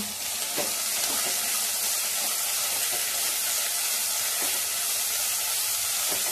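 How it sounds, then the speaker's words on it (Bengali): Loud, continuous sizzle and spatter of cauliflower, carrot and peas frying in a pan for fried rice, close and unbroken with faint stirring scrapes underneath. "এখন মটরশুঁটিটা দিয়ে দেব, দিয়ে তিনটেই ভালো করে ভেজে নেব।"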